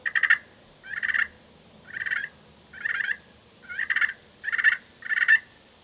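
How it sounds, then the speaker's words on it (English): Soft turkey purrs made by slowly dragging a striker across a glass pot call, seven rolling bursts about a second apart, moderately quiet and close, with no voices. "Now, you want to do the purr,"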